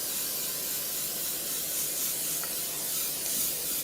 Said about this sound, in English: A light spray of cooking oil.